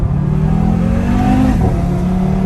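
A 2021 Audi TT RS engine accelerates with a steady, throaty roar close by, the pitch rising smoothly as it pulls.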